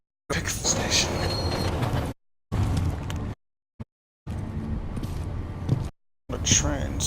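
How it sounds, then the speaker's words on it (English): A train rumbles through the video game Deus Ex: Mankind Divided, its rolling noise steady and fairly loud, broken by abrupt silent gaps. "A train, so that's pretty good."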